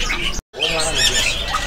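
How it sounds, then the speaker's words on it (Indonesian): A young pair of Bali starlings at a bird market stall give loud, harsh squawking calls, close by, broken by a short silent gap. "Ini jalak Bali remaja pasangan ya."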